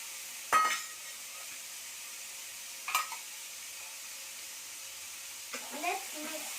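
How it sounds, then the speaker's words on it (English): Tomato and onion frying together for an egg curry make a faint, steady hiss. A few spoon-stirring scrapes come at intervals, and a voice speaks briefly near the end. "Let's mix the tomato and onion."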